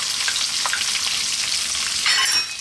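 Onion fries in hot oil with mustard and cumin seeds over high heat for a lentil curry, a dense continuous sizzle with faint crackles, close and unbroken, no talking.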